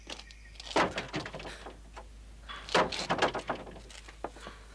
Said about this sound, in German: Los, schlag die Tür ein.